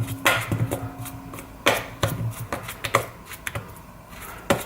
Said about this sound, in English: You slice it up like this, it just makes life a little bit easier, especially if the banana is a little bit green